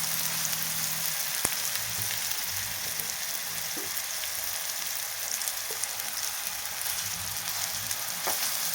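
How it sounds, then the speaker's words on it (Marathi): Finely chopped onion fries in oil for dahi tadka, a steady soft sizzle running evenly throughout with a few faint clicks of stirring. "आणि कांदा छान परतून घ्यायचा मी थोडासा बारीकच कट केलेला आहे"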